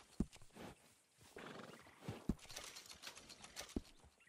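Horse in Red Dead Redemption 2 whinnying amid a busy stable scene, with a few sharp hoof clip-clops and thumps scattered throughout and some faint mechanical clicking in the background.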